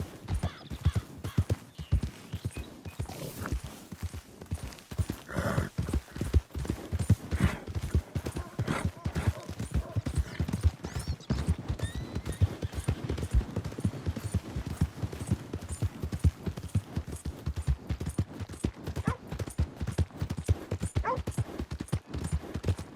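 Steady clip-clop of horse hooves at a brisk gallop in the video game Red Dead Redemption 2, close and continuous, with occasional faint sharp cracks in the background.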